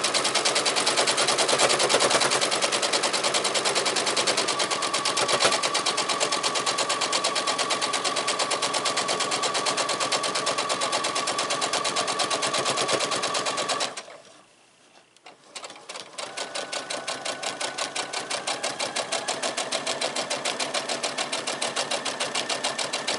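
A sewing machine stitching down a pre-cut fabric quilt block, a loud steady rapid mechanical chatter that runs continuously, stops briefly mid-way, then resumes at the same even pace.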